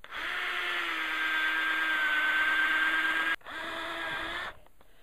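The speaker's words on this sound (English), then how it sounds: "Who'd have thunk they'd be so difficult to drill a hole in?" A power drill whines steadily for several seconds while boring a hole in a garden planter, stops briefly, then runs again before cutting off; close and loud, with no talking.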